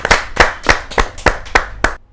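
An audience claps together at a Hindi poetry recital, seven crisp, evenly spaced claps in a steady rhythm, fairly close and loud with no voices.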